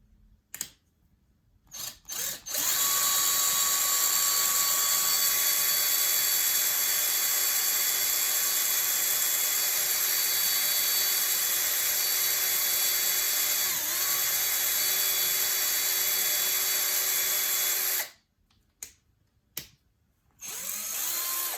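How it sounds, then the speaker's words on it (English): A power drill bores into a Telecaster guitar body, a loud steady whine running unbroken for about fifteen seconds, framed by brief trigger bursts at the start and end. "I'm going to go one more drill bit up."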